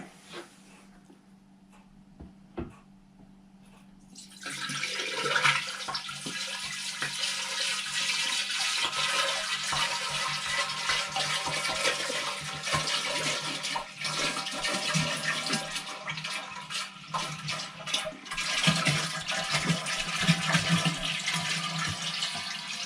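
Liquid rushes steadily from a tank's water valve after a quiet start, a broad continuous gush and splash with slight surges, close and fairly loud, no voices.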